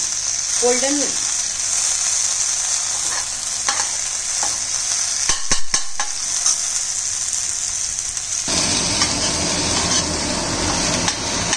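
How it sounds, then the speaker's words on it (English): Okra frying in a kadhai over a low flame, a steady close sizzle with brief stirring scrapes partway through and a louder burst of frying toward the end. "you can fry it for some more time"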